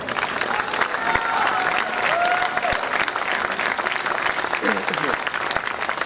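A crowd of students at a school event claps in dense, sustained applause. It is steady and fairly loud throughout, with faint voices mixed in.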